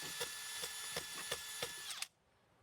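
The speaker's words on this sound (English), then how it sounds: "I'm gonna drill a little bit past just so I make sure that the screw doesn't bottom out" Hammer drill boring a hole into concrete for a Tapcon screw while installing a window well, pulsing in short repeated bursts as the bit is worked back and forth, then stopping abruptly.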